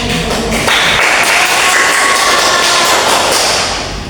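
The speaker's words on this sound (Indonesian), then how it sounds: "Tepuk tangan buat kita semua." Applause from a classroom of students at the close of a lesson, a steady noisy patter of clapping that fills the room at close range for several seconds before easing slightly at the end.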